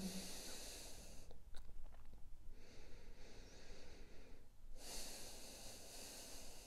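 Slow, audible breaths during a yoga pose, long hissing inhales and exhales close to the microphone, alternating with quieter pauses and no talking over them.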